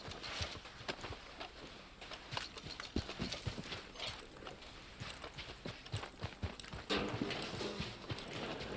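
Horse hooves clopping in Red Dead Online, a steady galloping rhythm of close, fairly quiet hoofbeats continuing throughout with no talking.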